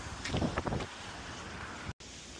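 Steady wind rushing across the microphone outdoors, with a brief burst of low rumbling early on and a momentary dropout near the end.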